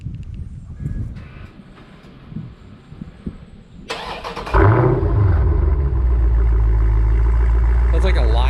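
A Dodge Challenger 392 with stock mufflers starts from cold. The starter whirs, then the engine catches with a loud bark and settles into a deep, steady idle heard from arm's length, with faint talk before the start.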